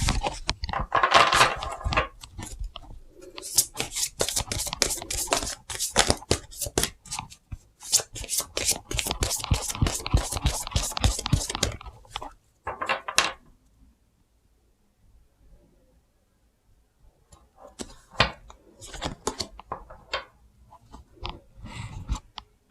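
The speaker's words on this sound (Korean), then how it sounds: "지금 제가 섞고 있는 이 카드는" A deck of fortune-telling cards is shuffled by hand in a quiet room. Dense, rapid riffling and flicking runs close and loud for about twelve seconds, breaks briefly, then returns as sparser, softer card handling toward the end.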